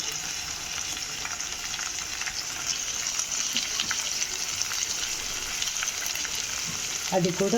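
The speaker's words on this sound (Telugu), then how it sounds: "ఆయిల్లో వేగి మంచి ఫ్లేవర్ వస్తుంది" Beans frying in hot oil give a steady, close sizzle throughout, with a brief louder clatter of stirring near the end.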